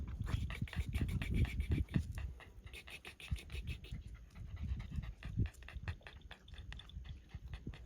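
A Jack Russell puppy pants hard and fast in a rapid, ragged rhythm close to the mic, with scratchy rustling and snuffling mixed in throughout.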